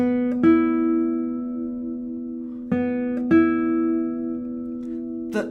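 A note plucked on a classical guitar rings out with a sustained, blooming tone, struck again a few times over several seconds, close and clear with no talking.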